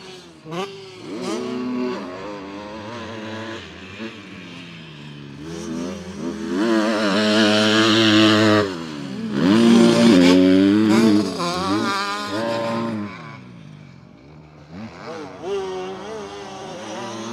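Dirt bikes ride a motocross track at Ernée in sunny conditions, their engines rising and falling in revving whines that pass near and fade away, growing louder in the middle before easing off.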